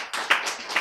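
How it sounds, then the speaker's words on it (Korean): Short burst of audience clapping during a Korean lecture, a few hands striking together briefly and fairly close, with no talk over it. "박수."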